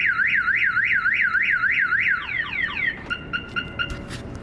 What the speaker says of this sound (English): Alright, so the alarm does work, so I'm all set.